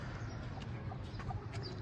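Hen and rooster clucking softly at a backyard poultry setup, a black hen among them, faint scattered bird calls over a steady low background hum, no talk.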